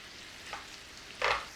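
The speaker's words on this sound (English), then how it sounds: "Butter, oil, start to sizzle, onions in." A faint, soft sizzle of onions frying in butter and oil in a pan, with a brief stirring scrape near the end.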